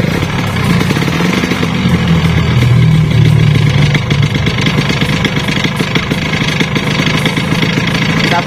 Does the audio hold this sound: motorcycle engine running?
yes